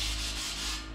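Zinc-coated steel is sanded lightly by hand to key the surface, giving a steady, close, even rubbing hiss with no pauses.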